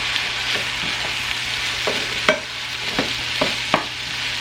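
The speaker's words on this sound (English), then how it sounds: "Stir this all together." Food dressed with soy sauce and toasted sesame oil sizzles steadily in a pan while a utensil stirs it, sharp scraping strokes recurring every half second or so over the constant frying hiss, close and loud, no speech.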